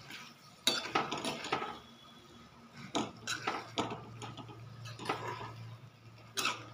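Katval vegetable being stirred and sautéed in a pan, with a spatula scraping and clinking against the metal in irregular strokes, some louder knocks standing out over a low steady background hum; no voices.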